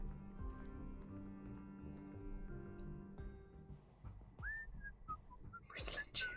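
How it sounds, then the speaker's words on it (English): A video game character in Whispers of a Machine whistles a cheerful tune, clear and close, wavering up and down over a quiet musical background with soft ticking. "Whistling cheerfully."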